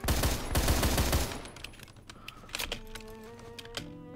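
Rapid burst of gunfire in the video game Phantom Forces, dense and loud for the first second, then thinning into scattered distant shots and clicks among tonal game sounds.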